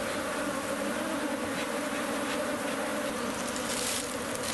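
Honey bees at opened hives make a dense, continuous buzzing swarm drone, steady and fairly close, with no voices.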